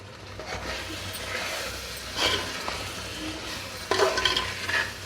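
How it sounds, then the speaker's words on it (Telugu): Chicken pieces being stirred with biryani masala and chili powder in a pot, soft scraping and sizzling with a couple of sharper spoon-against-metal clinks. "ఈ స్పైసెస్ అన్నీ చికెన్ ముక్కలకి పట్టేలాగా ఒకసారి కలుపుకుందాము"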